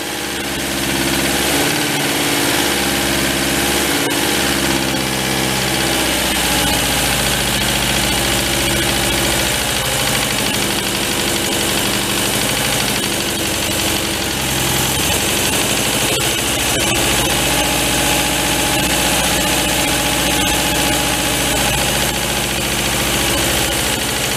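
A barn-find MG TD engine, parked for 45 years, idles loudly and steadily with an even, slightly rough mechanical churn and vibration throughout, close up and without talk.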